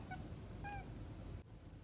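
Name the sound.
cat meowing at a bird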